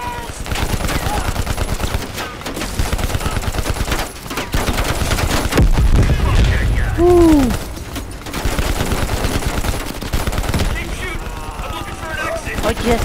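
Call of Duty Black Ops Cold War gameplay gunfire rattles in loud, rapid automatic bursts separated by brief gaps, with voices talking over the shooting.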